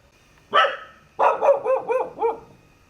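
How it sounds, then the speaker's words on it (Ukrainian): Stray dogs in an abandoned, littered residential area bark in two bursts: a single loud bark, then after a pause a quick run of four or five close, fairly loud barks. "А єдині мешканці тут це ходючі собаки, яких ніхто не годує"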